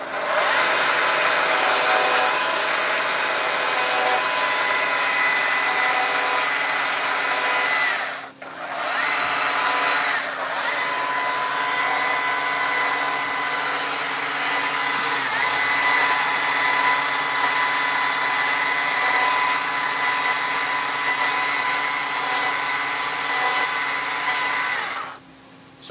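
A chainsaw carving wood runs loud and steady for a long stretch, broken by two brief drops in power partway through, with no one speaking over it.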